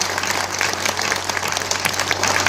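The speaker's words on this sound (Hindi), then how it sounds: "आपकी तालियां कमजोर है इस कविता पर" Audience applause at a Hindi poetry gathering in Gonda, following a patriotic poem about Kashmir: a moderate, continuous patter of many hands over a low steady hum, thinner than a full ovation.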